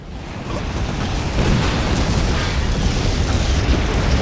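A heavy, rumbling explosion from Command and Conquer 3 Tiberium Wars, a real-time strategy game, roars loud and sustained with a dense low boom and no voice over it.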